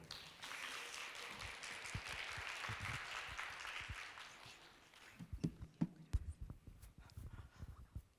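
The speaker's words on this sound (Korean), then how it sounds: "큰 박수 부탁드리겠습니다" An audience at a college innovation project results-sharing event claps for several seconds; the applause then thins out into scattered knocks and footsteps as the presenter walks up.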